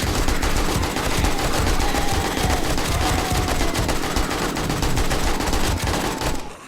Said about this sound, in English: I'm gonna shut up here for a few seconds and let you folks just bask in the awesomeness of the